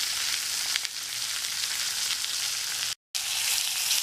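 A beef roast sears fat side down in a hot pan, giving a steady, dense sizzle and crackle that continues unbroken, close and moderately loud, with a brief dropout near the end.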